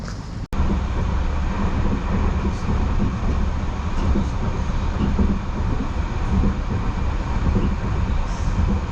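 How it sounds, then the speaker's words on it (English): Steady rumble of a tram in motion in Norway, rattling wheels and low mechanical drone throughout, with one brief sharp click near the start. "So we have made it off the tram"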